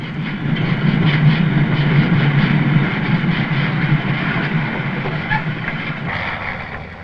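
A freight train carrying pulverised fuel ash rumbles steadily along the rails as it arrives at a terminal, a loud low drone with faint rhythmic clatter that eases off slightly toward the end.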